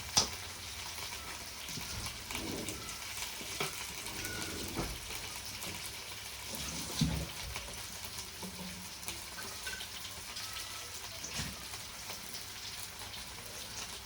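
Fish coated in light masala frying in a pan, a steady soft sizzle running throughout with occasional faint clinks and stirring, fairly quiet and without speech.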